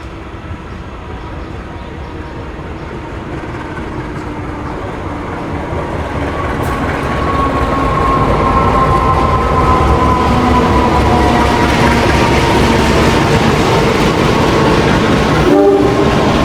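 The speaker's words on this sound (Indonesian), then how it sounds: "ini dia kereta api komuter lain Penataran yang aku naiki. Masuk stasiun Bangil." A Penataran commuter train hauled by locomotive JC201 rumbles in steadily, growing louder as it pulls into Bangil station, with rhythmic wheel clatter and a brief horn near the end.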